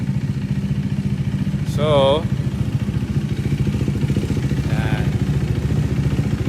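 A KTM RC390 motorcycle with a large custom exhaust built for a deep tone idles close by. It makes a steady, low, rhythmic putter throughout, with a brief voice and faint background chatter over it.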